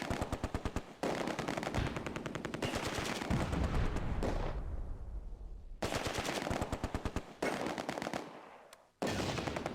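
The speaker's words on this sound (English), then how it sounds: "Corporal Keith's Bren section targets a Schutzen squad assaulting across open ground" Sustained machine gun fire from Bren light machine guns in the Close Combat wartime strategy game, firing repeated rapid bursts with brief pauses and a fading gap, loud and close, with no talking.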